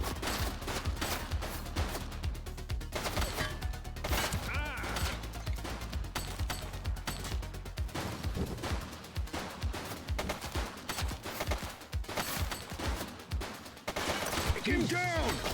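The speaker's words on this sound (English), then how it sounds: "She's shooting!" A woman opens fire in the police video game The Precinct, with rapid, sustained gunfire bursts crackling loudly and continuously throughout, overlapping other voices and chaotic action sounds.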